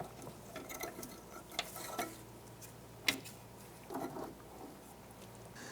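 A pry bar working a front strut mount free on a 2001-2007 Ford Escape makes faint metallic scrapes and a few sharp clanks, one louder knock standing out midway, all over quiet background hum.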